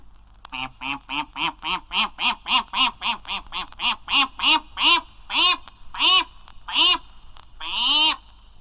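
A voice imitates a mother duck with about twenty loud, close, nasal quacks in a steady rhythm that gradually slows and ends in one long drawn-out quack.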